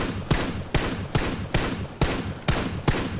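Single-fire gunshots in the PUBG video game, seven sharp evenly spaced shots at roughly half-second intervals, loud and close with no talking.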